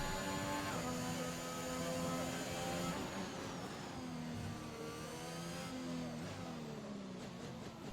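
A racing car engine revs up through the gears on a lap of the Singapore Grand Prix in an F1 video game, a steady loud whine with rising pitch sweeps and no talk over it.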